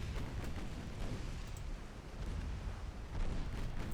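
Torpedo detonation in the naval warship game Ultimate Admiral Dreadnoughts, a heavy rumbling blast with a sustained booming roar and crackle that swells again near the end.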